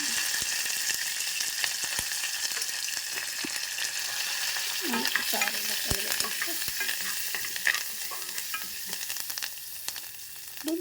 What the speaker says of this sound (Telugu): ఇప్పుడు ఇందులో మనం కరివేపాకు కూడా వేద్దాం